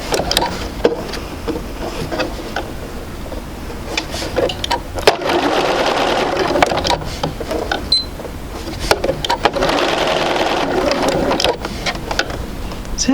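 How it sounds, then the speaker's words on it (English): A sewing machine stitches around the corner of a basic sampler quilt block, its motor whirring in several close, fairly loud runs that stop and restart, with no talk over it. "I only take about 5 stitches or so just to get it going around the corner"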